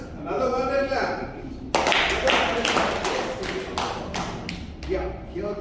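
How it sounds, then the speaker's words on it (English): A burst of group clapping starts abruptly and continues with loud, irregular claps for several seconds, with voices before it and mixed into it. "Another wonder clap."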